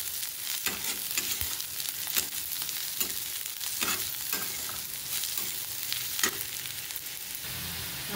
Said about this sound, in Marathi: लसूण पण आपल्याला चांगला लालसर होईपर्यंत परतायचा आहे